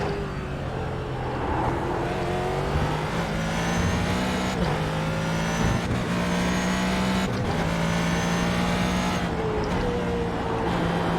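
GT3 race car engine in iRacing driving a lap, revving loudly and steadily through repeated gear shifts with brief dips between rising pulls, no talking.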